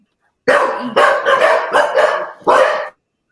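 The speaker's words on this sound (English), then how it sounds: "that dog's putting his view in about Scott Twine, I think, to be fair." A dog barks loudly and close by in a run of about five harsh barks with short gaps, alone with no voices over it.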